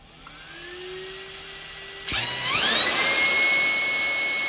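A racing motor driven by an electronic speed controller, near and loud, starts with a rising whine and jumps at about two seconds to a sharp high-pitched shriek. The shriek holds steady at top RPM until the end.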